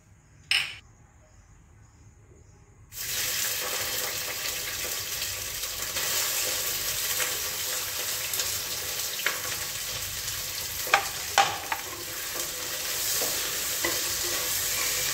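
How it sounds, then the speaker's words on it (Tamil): Ivy gourd fries and sizzles in hot cold-pressed sesame oil in a clay pot, a steady crackling hiss after a short quiet start and an early clink, with occasional louder stirring scrapes. "அதுக்காக தான் இதை நல்லா ஃப்ரை பண்ணி எடுத்துக்கிறோம்"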